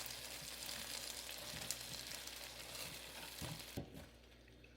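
Cajun-seasoned chicken wings sizzle and crackle in an air fryer basket at 400 degrees as they are flipped, with a few soft knocks and clatters, then the sizzle fades near the end; fairly quiet throughout.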